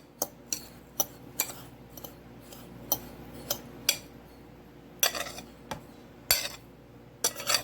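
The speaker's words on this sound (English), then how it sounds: "So all I'm doing is mixing it up." Mock chicken meat mixture for city chicken is stirred in a bowl, giving irregular clinks and scrapes of a utensil against the dish, close and fairly quiet, with no voices.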